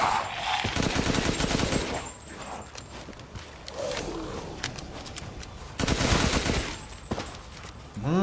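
Automatic machine gun fire in the video game Resident Evil Village, loud bursts of rapid shots in several volleys with pauses between them, and gameplay sounds in the gaps.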